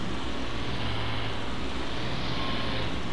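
Truck engine idling in the Farming Simulator 22 video game: a steady, low purring drone that holds an even level throughout with no talking over it.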